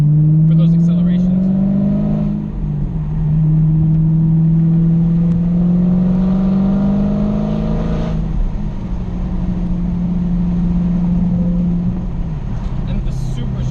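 A supercharged 2016 Dodge Challenger Hellcat with a six-speed manual accelerates uphill, its engine tone rising steadily through the gears, dipping at the shifts, and droning loudly throughout with talk over it.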